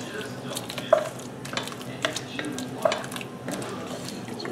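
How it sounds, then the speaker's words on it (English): Tomato paste being stirred into a pot of jambalaya at a cooking contest, a spoon scraping and clinking against the pot with a few sharper knocks over a soft sizzle, close and continuous. "We'll take some tomato paste, take a big old heaping tablespoon, about half there like that, and we'll stir that into here."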